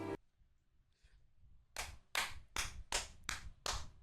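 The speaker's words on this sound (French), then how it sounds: "J'applaudis madame" One person clapping at close range in a family home, about six sharp, evenly spaced claps that follow a short quiet stretch.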